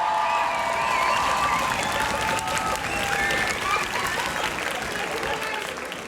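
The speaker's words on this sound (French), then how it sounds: "un tonnerre d'applaudissements" An audience at a student eloquence contest breaks into loud, sustained applause, dense clapping throughout with a few cheers mixed in.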